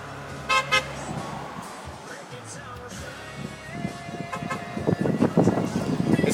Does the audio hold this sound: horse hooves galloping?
no